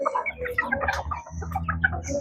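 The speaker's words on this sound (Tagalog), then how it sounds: "Magpapakain tayo natin mga alagang manok." Backyard pet chickens cluck and murmur close by in a short, busy burst of overlapping bird calls while they are fed in the morning.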